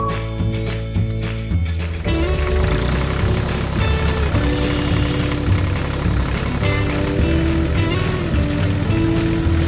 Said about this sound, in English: a little red tractor drove out of the garage